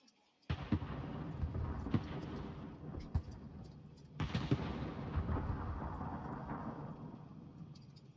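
Warship guns boom in a naval battle game, with two deep salvos a few seconds apart and rumbling echoes and scattered smaller blasts between them. The sound is moderately distant and fairly quiet overall.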